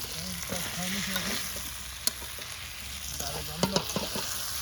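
Chicken sautés for kosha in a pan over a village cooking fire, giving a steady sizzle with occasional spatula scrapes and clicks. A faint voice can be heard in the background.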